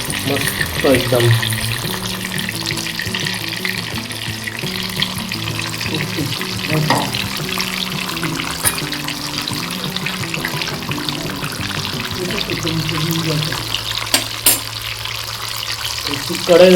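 Bombay duck (bombil) fish laid into hot oil in a small kadhai, frying with a continuous close sizzle and occasional stirring or clattering, accompanied by tonal background music.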